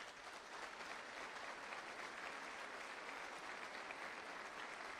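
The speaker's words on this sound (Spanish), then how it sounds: "Dale un aplauso a Jesús." A church congregation applauds in a steady, dense wash of clapping that fills the whole stretch evenly, a sustained roomful of hands with no pauses.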